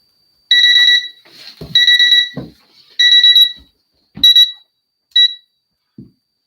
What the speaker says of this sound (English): Once you hear the alarm go off, that means the item will be ending